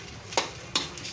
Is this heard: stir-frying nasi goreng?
yes